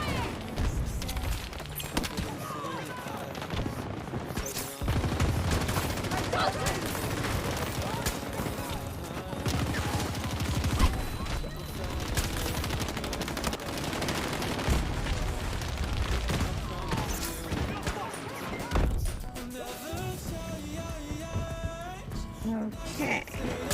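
Video game gunfire crackles in dense bursts and booms over a long stretch of battle noise, with players talking and shouting over the shooting.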